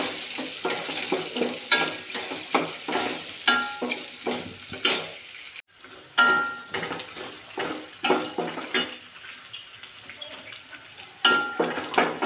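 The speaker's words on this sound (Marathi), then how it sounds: "तर मी कांदा आणि मिरची याच्यात घालून घ्यायची. त्याला पण छान असं परतून घ्यायचं." Onion and green chili sautéing in oil in a pan for lemon rice, with repeated scraping strokes of a spoon over a soft sizzle, a short break midway.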